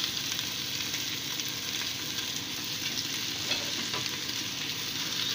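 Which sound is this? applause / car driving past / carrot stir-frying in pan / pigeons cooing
carrot stir-frying in pan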